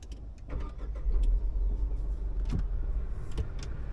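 Tata Nexon CNG car heard from inside the cabin, a steady low engine and road rumble with a few brief clicks and knocks on top, no voices.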